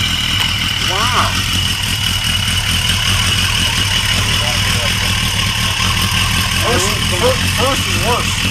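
A 1250 motorcycle engine idles with a steady, near, low throb throughout, while people talk over it in short bursts.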